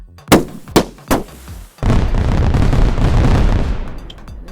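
Three missiles fired in quick succession, three sharp loud bangs about a second apart, followed by a long roaring rumble of impacts that slowly fades out.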